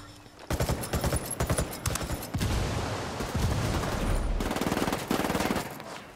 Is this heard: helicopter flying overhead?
no